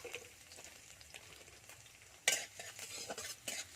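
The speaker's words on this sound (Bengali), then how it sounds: "তেলটা আমার গরম হয়ে এসছে এর মধ্যে রসুন দিয়ে দিচ্ছি রসুনটাকে ছোট ছোট করে কুচিয়েছি রসুনটাকে একটু ভেজে নেবো" Finely chopped garlic fries in hot oil in a pan, giving a faint, low sizzle broken by a spoon scraping and clinking as it is stirred, with the sharpest strokes coming in the second half.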